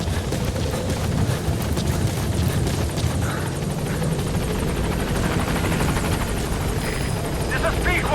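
The helicopter Pequod arrives at the landing zone in Metal Gear Solid V, its rotor a loud continuous thudding drone throughout, with a radio voice talking over it.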